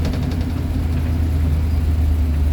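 An International Travelall truck without power steering rumbles along with a steady low engine drone and loose cabin rattles, close and continuous, with no one talking.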